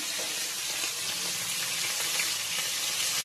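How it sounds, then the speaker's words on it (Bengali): Whole cumin and fennel seeds crackle in hot oil, a steady bright hiss and sizzle heard close up for a few seconds, then cut off abruptly. "গোটা জিরা ভেজে নেব।"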